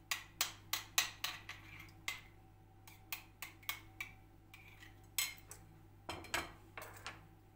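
A metal spoon repeatedly knocks and scrapes against a pot or bowl while mashing tomato paste into water, giving a quick series of sharp clinks in bursts, close up with a low steady hum behind.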